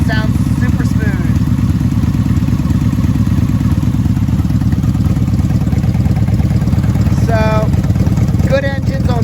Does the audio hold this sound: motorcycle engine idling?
yes